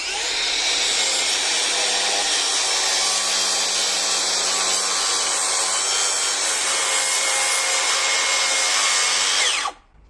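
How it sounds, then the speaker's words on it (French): A plunge saw cuts steadily through wood for several seconds, a loud continuous whine and rasp that ends abruptly as the cut finishes. "je vais du coup tirer à la règle une découpe à la scie plongeante"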